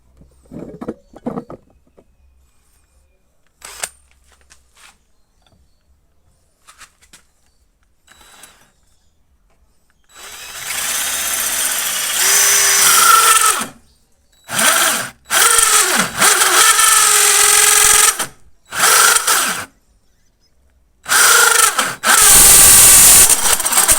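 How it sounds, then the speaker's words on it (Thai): After a quiet start, a DeWalt cordless drill on a 5 Ah battery whirs loudly in several bursts separated by short pauses, boring a door-knob hole through hard solid wood. "ไปเราก็จะเริ่มทำการเจาะนะผม โดยผมจะใช้แบต 5 แอมป์นะผม"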